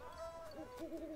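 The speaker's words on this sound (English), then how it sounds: "Oh, wait, are the owls bad?" Owls hoot in the animated film Song of the Sea, a soft, wavering series of tonal calls heard at moderate volume without talk.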